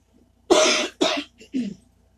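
Two harsh, loud coughs close by, triggered by air conditioning, followed by a couple of smaller, softer coughs trailing off.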